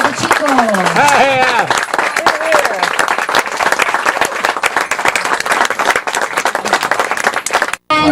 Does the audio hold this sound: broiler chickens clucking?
no